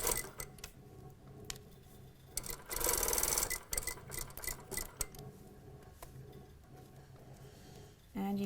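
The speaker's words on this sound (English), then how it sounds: "I'm going to just stitch anywhere on the tape where I can get on with the foot here" A sewing machine stitching tape onto a paneled fashion skirt: a rapid mechanical whirr comes in short bursts with pauses between, and one louder run near the middle and another at the end.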